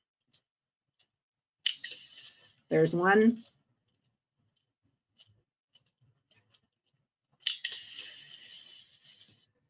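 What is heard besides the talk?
recorded whale clangs with faint whale clicking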